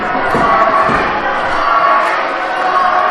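A wrestling crowd at an RWA Unleashed 2017 show cheers in a steady, loud roar of shouts and yells that fills the whole moment without pause.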